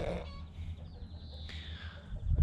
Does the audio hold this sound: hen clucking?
yes